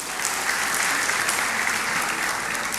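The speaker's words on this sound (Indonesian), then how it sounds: "Kasih tepuk tangan tuh Tuhan." A church congregation applauds during an Indonesian sermon, a dense, steady wash of many hands clapping at once that holds evenly from start to finish.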